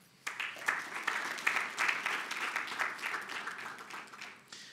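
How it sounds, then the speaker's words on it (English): A debate audience applauds to welcome the judges, a dense, steady round of clapping that starts abruptly and fades slightly toward the end, moderately loud with no talk over it. "let's welcome the judges with a round of applause"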